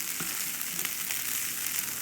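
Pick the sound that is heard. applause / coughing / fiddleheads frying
fiddleheads frying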